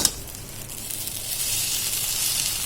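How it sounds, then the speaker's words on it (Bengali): Oil sizzling steadily in a kadai as food fries before vegetables are added, a bright continuous hiss that builds slightly, close and fairly loud with no talk. "তো সুন্দর ফ্রাই হচ্ছে"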